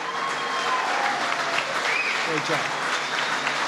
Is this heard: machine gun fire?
no